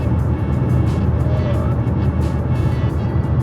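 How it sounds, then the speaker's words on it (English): Tire roar and wind rushing past the outside mirrors inside the cabin of a moving 2011 Ford Focus at constant speed, a steady low rumble with a hissing wash above it, no talking. "you're kind of hearing the tire noise and especially the wind noise"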